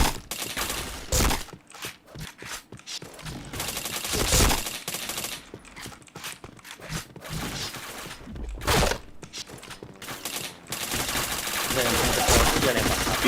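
Video game gunfire in a shooter match, bursts of rapid automatic fire and single shots coming in loud clustered volleys with brief gaps, close and dominant, with a player's voice talking faintly in places.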